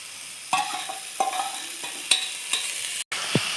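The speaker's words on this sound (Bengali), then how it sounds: "আমি এবার সিদ্ধ করা মোচাগুলো দিয়ে দেবো" Boiled banana flower being stirred into fried spice paste for a shrimp mochar ghonto, with close scraping spoon strokes over a steady sizzle in the pan.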